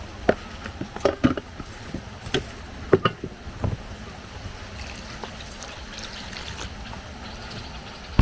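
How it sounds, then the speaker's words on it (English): Water trickling and pouring in a thin stream into a pot of uziza leaf for Nigerian afang soup, with a few sharp clinks and knocks early on, fairly close and moderate in level. "so I want to add water to this"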